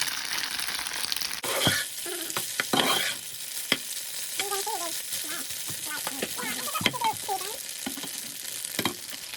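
Korean popcorn tofu fries in a pan with steady sizzling, punctuated by stirring scrapes and a few clattering knocks of a utensil against the pan, close and continuous.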